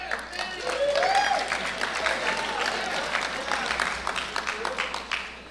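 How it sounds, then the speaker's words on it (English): An audience at a university convocation ceremony applauding, a steady wash of clapping that swells and then tapers off, heard from within the hall while a voice speaks over it. "let's hold the applause till the end"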